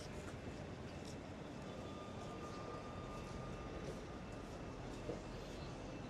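A subway train at Fulton Street station in Manhattan gives a steady, continuous rumbling roar that fills the whole stretch at an even level, with no clear voices.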